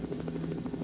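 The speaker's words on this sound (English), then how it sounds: "I'm flying the helicopter now using the mouse, and that's one of the enemy helicopters." Game helicopters, the player's own and an enemy one, thrum with a quick rhythmic rotor chop in a brief burst, with no voices.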